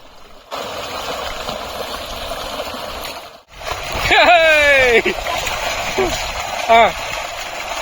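Children jump into a pump-set water tank in a village, with a steady rush of water, loud splashes and excited children's voices shouting over the churning.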